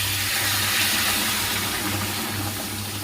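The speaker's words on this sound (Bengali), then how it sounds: "গরম জল দিয়ে দিলাম" Hot water poured into a simmering curry makes a short, loud, continuous rush of hissing, splashing liquid.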